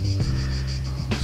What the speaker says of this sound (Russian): А здесь цикады, здесь юго-восточный Крым и совершенно дикая природа.